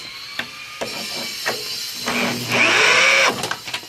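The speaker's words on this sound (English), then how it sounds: "I decided to get some power tools and speed things up a tad." A power tool drives fasteners on the front shock strut of a first-generation Honda CR-V, giving short clicks and bursts of whirring, then a louder sustained high-pitched whine near the end.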